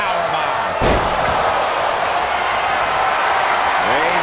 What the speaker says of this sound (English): And slamming him down into a powerbomb.